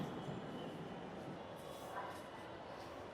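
A metro train pulls away from a station platform on a line bound for Uttara, giving a continuous broad, fairly soft rumble that holds steady, with faint platform murmur beneath.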